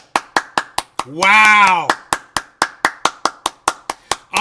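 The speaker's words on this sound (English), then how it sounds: "Everybody stand up and applaud for the Pope." A single person claps slowly and steadily, sharp close claps at an even pace, briefly interrupted by a short exclamation before the clapping resumes.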